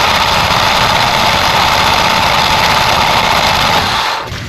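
A Generac generator engine runs at a steady loud drone after a mixer assembly replacement, with constant vibration throughout, then dips and fades near the end.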